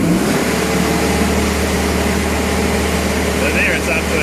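Antonio Carraro Tony TR10900 tractor engine held at a steady raised RPM, a loud continuous mechanical hum close by with no breaks.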